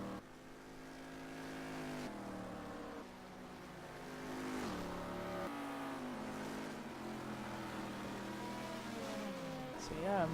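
Mercedes SLS GT3 race car in a racing game, the engine holding a steady, droning roar with rising and falling pitch as it shifts and slides, playing continuously beneath a commentator's talking.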